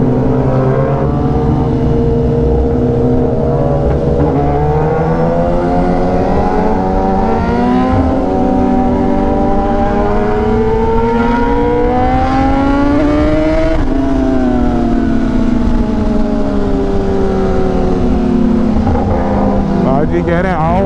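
A BMW S1000RR superbike cruising through dense traffic, its engine a loud continuous drone with pitch sweeps as revs rise and fall, heavy wind buffeting throughout.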